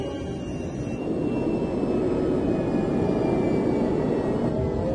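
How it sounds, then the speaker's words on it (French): An airliner's engines roar loud and steady as the plane slows on the runway, a dense continuous rumble that swells after the first second and holds without talk. "L'avion commence à ralentir."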